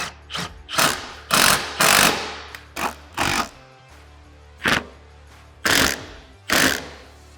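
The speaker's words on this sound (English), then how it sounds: "And then we're good to go to fully tighten this bolt" A power tool tightens bolts on Can-Am Defender door hinge hardware in short, loud buzzing bursts of a second or less, separated by brief quiet gaps, close up.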